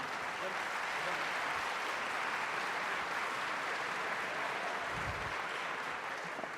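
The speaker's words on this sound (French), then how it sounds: "Je vous demande de les applaudir." An audience at a French justice debate applauds a panel, producing a steady, even wash of clapping that holds throughout at moderate, somewhat distant volume.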